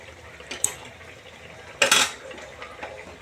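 Pot of Bengali pabda fish curry lifted off a kitchen stove, giving a couple of sharp metallic clinks and one louder scraping clatter of pot against metal, close by with no talk.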